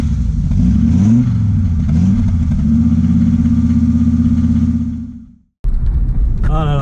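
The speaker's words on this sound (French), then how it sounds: "ce bruit caractéristique du 5 cylindres, incroyable" An Audi Coupé GT five-cylinder engine revs loudly up and down for about five seconds with a deep, warbling note, then cuts out briefly before the engine sound returns.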